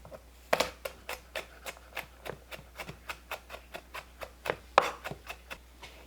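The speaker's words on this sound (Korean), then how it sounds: "마늘을 다져서 준비합니다" A knife mincing garlic on a cutting board, a steady run of about twenty sharp, close chopping taps with a few louder strikes, with no talk over it.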